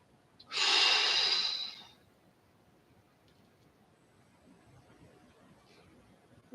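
A single deep breath in during a back exercise, loud and airy for about a second and a half, followed by near silence and a faint start of another breath at the end.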